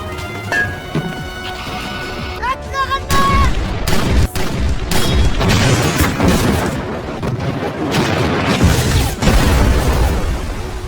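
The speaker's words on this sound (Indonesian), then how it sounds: "memerintahkan pasukan artileri untuk menembak ke segala arah." Artillery fire and explosions in a war film battle scene: heavy booms and rumbling blasts layered with crackling gunfire, loud and sustained across the whole stretch.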